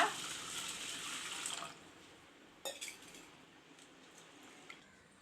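Water pours steadily onto rice for soaking for a couple of seconds, then stops. A faint clink follows and the rest is quiet.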